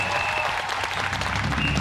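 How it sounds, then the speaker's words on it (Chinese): Studio audience of a Taiwanese TV variety show applauding, an even, sustained roar of many hands at steady loudness with no breaks. "掌声鼓励一下"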